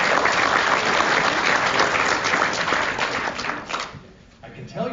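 A crowd at a listening session in a middle school applauds loudly and steadily for about four seconds, then the clapping thins and fades, with a few murmuring voices as it dies down.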